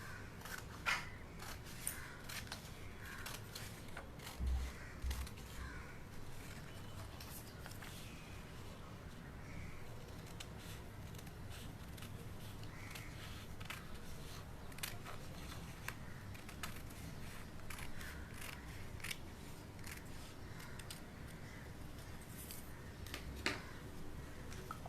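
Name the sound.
scissors cutting paper for a card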